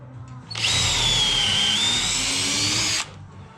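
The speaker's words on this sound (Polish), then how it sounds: "przewiercam sobie tu od góry, żeby nie, nie męczyć się skręcaniem tej śruby z jednej strony i z drugiej" A power drill bores down from above through a ceiling support for a suspended ceiling, a loud, close, steady whine lasting about two and a half seconds, starting and stopping abruptly.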